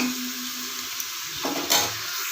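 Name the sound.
mint and coriander frying in a pan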